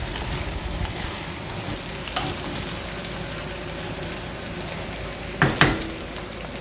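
Meat and vegetables stir-frying in a pan for curry, a steady close sizzle with a few louder clatters of stirring near the end, no talking.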